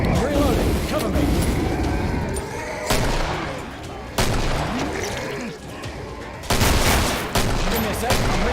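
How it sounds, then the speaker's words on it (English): Gun magazine reloads in the video game Killing Floor, mechanical clicks and ratcheting clacks mixed with bursts of gunfire, arriving in several loud repeated waves. "Give me a sec. I'm reloading. New mag."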